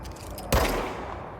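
A single gunshot from a weapon in the video game Control, one sharp burst with a brief decaying tail over a quiet background.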